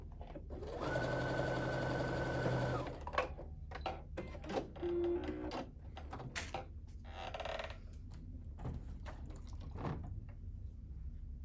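A sewing machine stitches the square corner of a quilt triangle, a close steady buzzing run of about two seconds followed by scattered handling clicks and fabric rustles.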